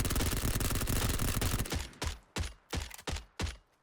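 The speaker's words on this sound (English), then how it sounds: "The suppressed vector just sounds so cool" A suppressed Vector submachine gun in PUBG on the Miramar map fires one long sustained burst, then several short clipped bursts with brief gaps, loud and close.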